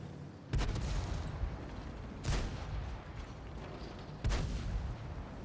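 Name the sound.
video game tank tracks on grass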